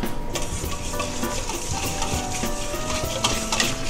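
A whisk beats New York maple syrup into a mixture in a bowl, a brisk, continuous scraping and swishing up close, with no one talking.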